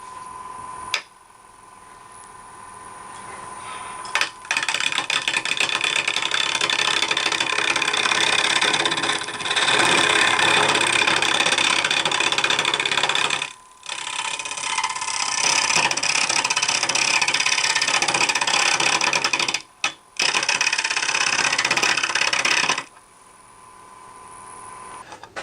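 Soft poplar spins on a wood lathe at about 1,000 RPM while a carbide-tip hollowing tool cuts it, giving long stretches of loud, rough scraping hiss broken by short pauses, with no talking.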